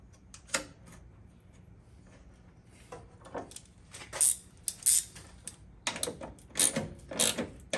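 Bolts tightened on a GKtech S13 engine damper, a run of close, sharp ratcheting clicks and metallic rasps in short bursts separated by brief pauses.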